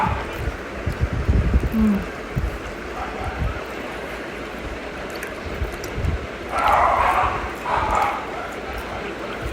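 A dog barks a few times in the background while people talk nearby, with outdoor ambience underneath.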